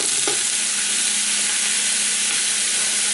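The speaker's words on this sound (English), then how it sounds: "go ahead and put your sausage in" Sausage frying in a hot pot with olive oil for Cajun smothered potatoes, a steady bright sizzle running throughout, close and fairly loud, with a brief utensil scrape near the start and no talking.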